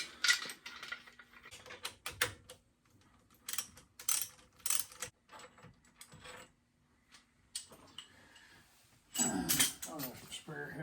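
A ratchet retorques head bolts on a Willys Jeep F134 engine in a 1956 Willys Jeep, giving bursts of quick clicking with pauses between pulls, close by, with a little faint background noise.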